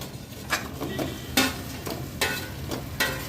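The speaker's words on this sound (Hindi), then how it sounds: "चाशनी गर्म कर ली है हमने, ये खाजा सारे इसमें डाल देते हैं" Khaja pastries dropped into warm sugar syrup, giving a few close, wet splashing and stirring bursts spaced through the moment, with no talking.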